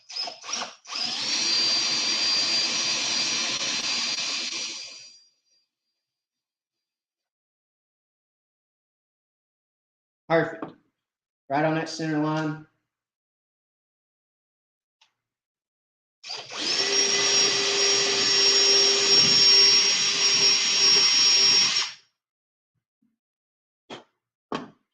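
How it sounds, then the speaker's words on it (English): A power drill whirs in two long, steady bursts separated by a quiet stretch, with a few short spins in between and a person speaking briefly. "Drill that hole right through."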